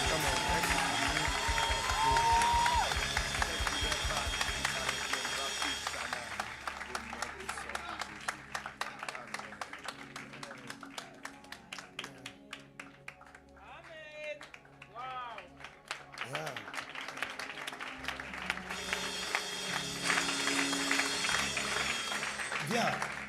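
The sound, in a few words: congregation applauding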